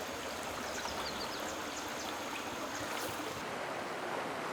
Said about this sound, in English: The stream flows past a vertical rock wall.